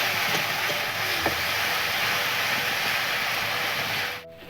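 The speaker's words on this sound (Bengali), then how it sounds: "এটা আদা বাটা জিরে বাটা আর ধনে বাটা মশলাটা এবার ভেজে নেবো একটু" Ginger, cumin and coriander spice paste fries in a pan with a steady, close broadband sizzle that holds evenly throughout, then drops away abruptly near the end; no voices.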